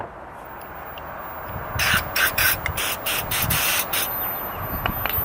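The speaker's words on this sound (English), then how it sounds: "We can spray a little carb cleaner through there." Carb cleaner is sprayed onto a lawn mower carburetor in several short, close, hissing aerosol bursts of about two seconds in total, followed by faint hiss and quiet handling.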